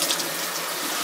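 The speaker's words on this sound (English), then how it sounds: "Downpour there of fresh water." Fresh water sprays from a rinse sprayer on a Dan Mar VegiWash produce washer, a steady loud hiss of falling water throughout the short moment.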